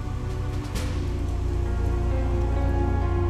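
Steady rain falls on hard surfaces in Hong Kong during Typhoon Yagi, a dense, continuous patter close at hand with no voices over it.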